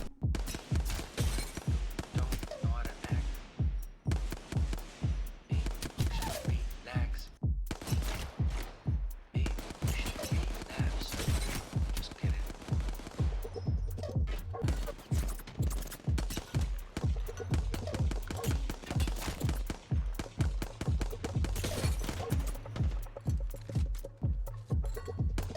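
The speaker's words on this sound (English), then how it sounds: "Look at all these mid-range to long-range shots I take during the game." Rapid, evenly spaced gunshots from the battle royale video game Apex Legends ring out in long sustained bursts, loud and close, with brief pauses between strings of fire and no talking.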